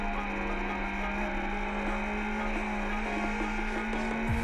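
A BMW S1000R motorcycle pulls hard on the Bugatti circuit, its engine a loud, dense, sustained whine at a steady pitch, with a brief pitch drop at the very end.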